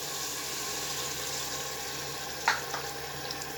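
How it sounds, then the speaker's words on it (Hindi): A cup of water is poured into a clay pot of chicken curry cooking on the flame, giving a steady liquid pour with a brief splash near the end. "अब लास्ट बात ये है कि इसके अंदर 1 कप पानी का मैं ऐड कर रहा हूँ"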